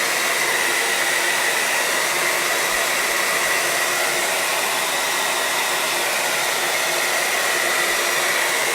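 A hair dryer blows hot air onto wet paint on a pallet-wood pumpkin, a steady, loud, close-up whoosh that runs unbroken throughout with no talking.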